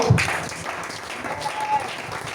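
Church congregation applauding during a worship service, a brief steady patter of clapping from a crowd heard at a moderate distance.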